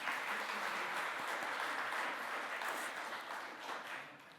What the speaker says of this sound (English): we'll still give him a round of applause